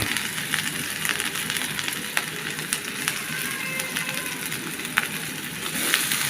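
Ginger, garlic and green chili paste frying in a hot pan, giving a steady close sizzle with faint crackles and occasional stirring clicks, no talking.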